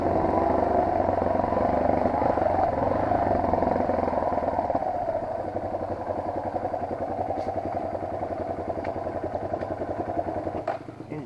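A Kyosei motorcycle engine runs continuously at a steady idle-like drone, loud and close, with a faint rattle; it settles slightly lower partway through, on a downhill stretch.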